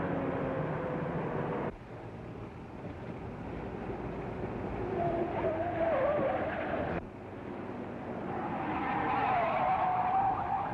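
A 1935 car drives fast in a chase after a truck, engine droning steadily with a rising tire squeal and skid, loud and close throughout.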